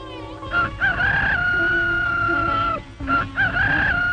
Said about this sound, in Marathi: कोंबड्याचा आवाज ऐकून